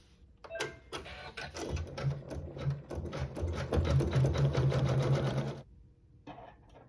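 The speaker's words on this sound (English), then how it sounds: "continuing with that same thread in the needle, we'll sew the tack down" An embroidery machine sews tack-down stitching on quilt fabric, a rapid rhythmic mechanical chatter of needle strokes that starts, runs steadily for several seconds, then stops with a brief click afterward.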